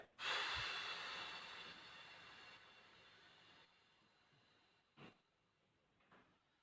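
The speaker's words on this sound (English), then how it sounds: "it's basically inhale for 4, 1, hold for 7, and exhale for 8." 4-7-8 breathing exercise: a long, close airy inhale that fades into a quiet held pause, followed by two brief soft breath sounds near the end.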